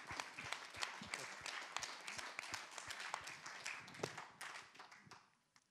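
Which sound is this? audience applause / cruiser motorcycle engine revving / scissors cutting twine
audience applause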